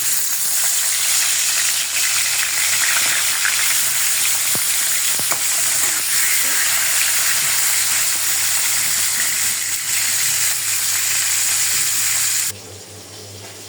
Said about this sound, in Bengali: এবার মাছ ভাজার পালা।